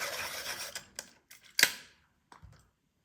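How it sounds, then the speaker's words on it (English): A warm gray colored pencil is sharpened in a few short bursts of scraping and grinding, close and fairly quiet, with brief pauses between strokes and no talk. "I'm going to just give it a sharpen."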